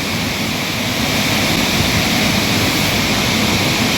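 Water pours through the fully opened gates of the Maruthanadhi dam in Dindigul district, a loud, constant roar of rushing water that fills the whole scene without a break.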